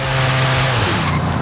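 Koenigsegg Jesko hypercar at high speed in Forza Horizon 5, a loud steady engine drone with a whining tone and tire noise throughout, no talking.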